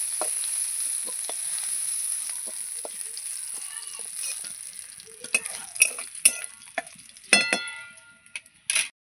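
Prawns frying in oil in a kadai as they are lifted out; a fading sizzle gives way to sharp, irregular clinks and scrapes of a utensil against the pan.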